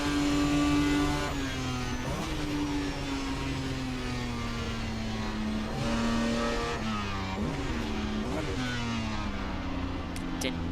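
Racing engine of a 1967 Jaguar E-Type in Assetto Corsa, a steady loud drone that shifts in pitch as the car lifts, brakes and downshifts through a tight left-hander, with no talk over it.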